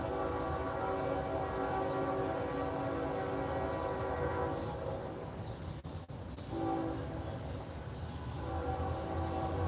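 A southbound freight train rumbles past at night on a Norfolk Southern or CSX line, its loud, continuous roar and rail noise steady and close throughout, with a brief dip in the middle before the rolling cars continue.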